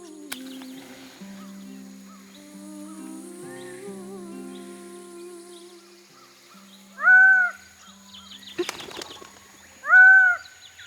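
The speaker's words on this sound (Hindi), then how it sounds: "हाँ, ये पक्षी आ गया है।" A bird arrives in a jungle setting with a brief burst of flapping wings and two sharp, clear calls a few seconds apart. Soft background music plays beneath, and no one speaks.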